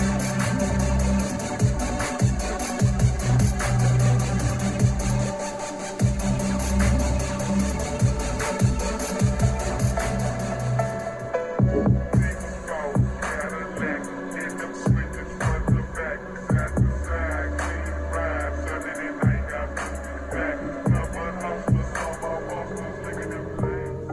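Music plays continuously and loudly through a Tribit Stormbox Blast, a 90 W IPX7 portable wireless speaker, with heavy, full bass and a noticeable shift in the arrangement about halfway through. No voices are heard.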